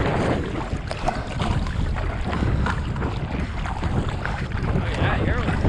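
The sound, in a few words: paddling a paddleboard on the Deschutes River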